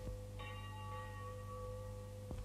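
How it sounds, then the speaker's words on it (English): Church bells ring for early mass in a Belgian town in 1914, a faint, sustained tolling with long ringing tones and a fresh strike near the end, set against low background hum. "Church bells were ringing, calling the devout Belgian people to early mass."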